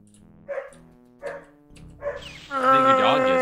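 Dog howls and yips in short rising bursts, three brief cries then a longer, louder sustained wavering howl, heard close up with no talk over it.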